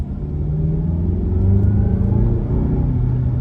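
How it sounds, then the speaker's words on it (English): A 2023 Mazda CX-9's turbocharged four-cylinder engine hums in a steady, low, close rumble from the cabin while driving, with a slight rise in revs partway through and no talk. "So this is the new engine that Mazda's had for quite a few years already."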